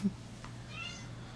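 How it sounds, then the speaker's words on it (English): A house cat gives a short, thin meow close by against a low steady hum, with soft background noise and a faint voice at the start. "can I get the cat off me, please?"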